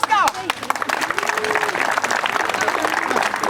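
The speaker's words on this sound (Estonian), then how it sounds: "Üks aplaus ka." Audience applause at an awards announcement, a dense burst of clapping that swells and holds steadily, with a voice calling out at the start and crowd noise mixed in.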